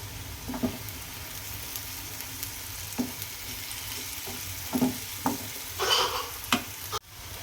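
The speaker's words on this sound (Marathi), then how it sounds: "आता व्यवस्थित मसाले परतून घ्यायचे" Spices including garam masala sautéed in a pan for whole masoor dal, a low continuous sizzle broken by several close scraping stir strokes and a brief louder hiss near the end.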